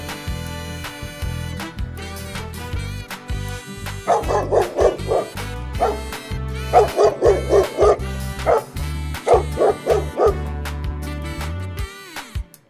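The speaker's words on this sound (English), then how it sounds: "dogs has a very extraordinary voice" Over a musical backing track, a dog barks in quick bursts of several yips at a time, loud and close, with whimpering tones between the bursts.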